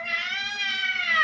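A child imitates a cat with a single drawn-out, high-pitched meow-like wail, close and fairly loud, the tone wavering slightly throughout.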